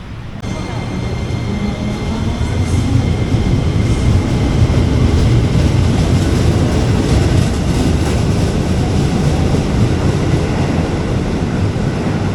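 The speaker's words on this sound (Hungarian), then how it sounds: "Megérkeztünk a vasútállomásra." Train at a railway station in Jakarta, Indonesia, a steady loud rumble of the train and station machinery running throughout, with faint voices mixed into the background noise.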